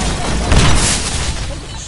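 A loud grenade blast in a Deadpool video game, a dense booming burst swelling in the middle and trailing into rumbling debris noise.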